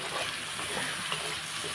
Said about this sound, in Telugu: వాటర్ వేసేస్తున్నాను.